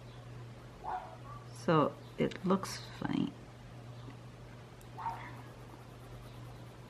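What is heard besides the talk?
neighbor's small dog barking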